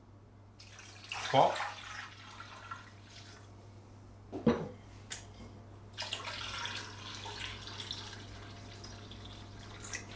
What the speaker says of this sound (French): Je vais mettre mon eau que j'ai filtrée tout à l'heure.